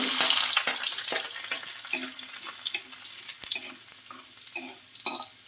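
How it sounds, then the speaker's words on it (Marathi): Half a spoon of cumin seeds crackling in hot oil in a pan for a Maharashtrian val bean dish, a steady close sizzle broken by sharp pops and a few stirring clinks, with no voice. "तेल चांगलं गरम झालं की तेलामध्ये जिरं टाकायचं अर्धा चमचा जिरं"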